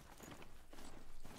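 Horse hooves clip-clop in the video game Horizon Zero Dawn, a quiet, steady rhythm of several soft thuds on the ground at a distance, with no talking.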